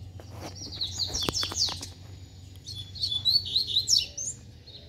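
Double-collared seedeaters (coleiros) call in quick bright chirps and trills, in bursts then a second flurry, fairly near, over a low steady background hum with no talking.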